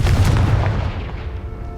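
A fire spell explodes in the video game Hogwarts Legacy: a loud, close boom with a deep rumble that fades over almost two seconds.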